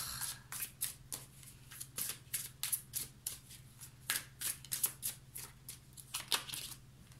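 Tarot cards being laid out and handled, a rapid run of crisp slaps, flicks and rustles of card stock close by, fairly quiet, with no talk.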